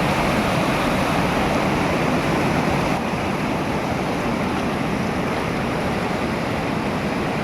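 A strong current pours from a hydro outlet fed by a lake and flows toward the sea, making a loud, constant, close-up rushing roar with no voices.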